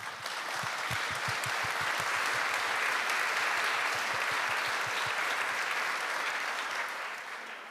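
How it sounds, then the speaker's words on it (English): Steady audience applause fills a panel discussion room at a developer event on the Angular framework, dense and even from start to finish, with no voices over it. "Round of applause, please."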